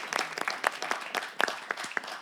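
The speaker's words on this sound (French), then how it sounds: "Je vais applaudir d'abord." Light, scattered hand claps, a brief burst of applause from a small group, fairly quiet with uneven rhythm.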